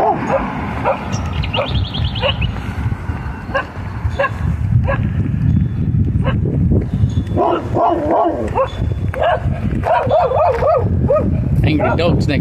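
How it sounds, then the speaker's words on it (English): Angry dogs next door in a country town bark and yip repeatedly, sharp close barks scattered through the clip over steady background noise and some voices, with a whimpering tone at times. "Angry dogs next door."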